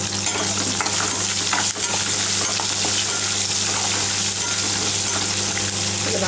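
Small onions fry in a pan with a steady, loud sizzle that runs throughout, while a spoon stirs them with soft scraping under the hiss, close up.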